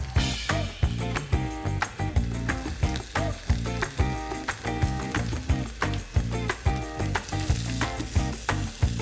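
Barramundi fillet frying skin side down in a hot pan, giving a loud, steady sizzle with crackling pops that pulse in regular waves throughout.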